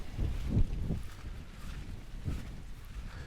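Corn plants in a field rustle in the wind, a soft dry swishing with gusty low rumbles of wind against the microphone, moderately near and without speech.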